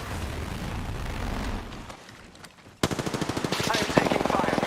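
Video game gunfire: distant shots and low rumble give way to a loud, rapid burst of automatic fire with evenly spaced cracks, close and sharp, followed by continued firing.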